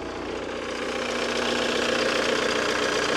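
A 1994 VW Passat B4 with a 1.9 TDI diesel engine idles up close, a loud, steady clattering rumble with a constant knocking rhythm that holds evenly throughout.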